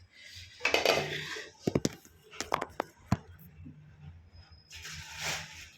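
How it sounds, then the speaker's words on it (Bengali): Fish and water tipped from one basin into another at home: splashes and sloshing with metallic clanks and knocks of the basins, a burst of pouring early, then a run of sharp clatters and a second splashy pour at the end. "দাঁড়াও তোমাদের সেখানে গামলা থেকে গামলায় ঢেলে দেখাচ্ছি"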